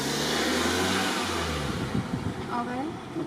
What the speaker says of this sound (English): Not too sure why he was revving his engine